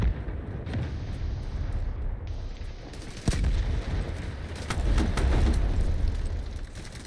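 Artillery barrage in the video game Delta Force: a sharp blast near the three-second mark, then a rolling series of deep booms and crackling impacts over a sustained low rumble, fairly loud and continuous.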